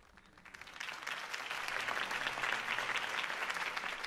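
A crowd applauds a campaign speech in the Telltale Batman video game, the clapping swelling from a soft start into a steady, dense roar of many hands that holds to the end.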